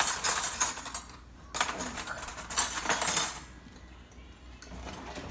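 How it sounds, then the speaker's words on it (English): Someone rummages through a drawer of cutlery looking for a spoon: close metallic clinks and jangles in several bursts of shuffling silverware, separated by brief quieter pauses. "I'm going to find a spoon in here."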